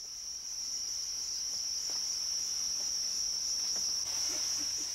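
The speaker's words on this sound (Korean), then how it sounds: "가을의 전령사로 불렸던 귀뚜라미." Crickets, raised in bulk as pet and reptile feed, trill in a steady, unbroken high-pitched chorus that stays even and moderately loud throughout, with faint background noise and no speech.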